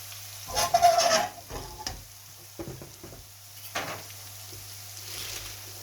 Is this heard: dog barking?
no